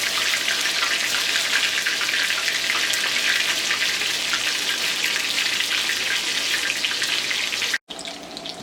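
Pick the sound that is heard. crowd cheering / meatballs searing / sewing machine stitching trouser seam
meatballs searing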